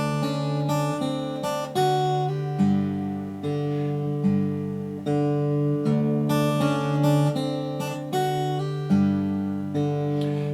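A jazzier slack key guitar turnaround using the Hawaiian blues note, with clear plucked acoustic notes and chords ringing in a steady, moderate rhythm, played alone at moderate volume for about ten seconds.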